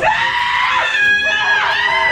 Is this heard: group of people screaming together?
yes